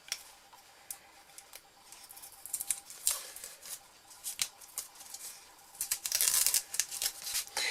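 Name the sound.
peeling off masking tape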